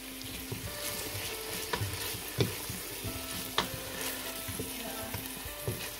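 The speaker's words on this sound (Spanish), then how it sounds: "El tomate también ya viene dorándose." Tomato frying and browning in a pan as the base for a mussel broth, with a steady close crackling sizzle and small scattered pops throughout, nobody speaking.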